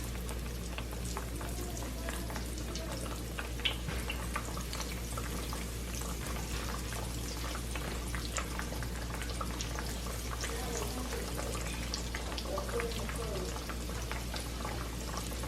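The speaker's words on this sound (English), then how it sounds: "You can deep fry these. I'm just gonna pan fry them." Breaded pickles sizzle as they pan fry in a shallow layer of oil, a steady, dense crackle and hiss that continues without a break and sits close.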